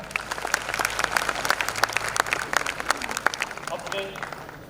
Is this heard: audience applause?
yes